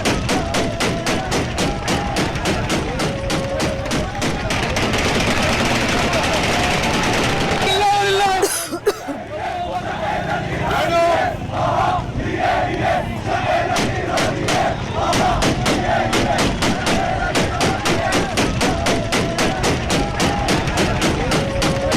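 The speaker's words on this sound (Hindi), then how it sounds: "दौरान गोलियों की आवाजों को भी आपने सुना।" Celebratory gunfire at a street celebration in Syria, with sharp shots popping through a loud, dense crowd of chanting and cheering voices that continues almost throughout.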